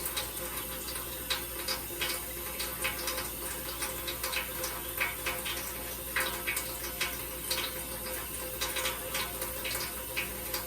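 A tap runs steadily into a sink during handwashing, a continuous broadband rush of water with small splashes and drips throughout, fairly close and without talk.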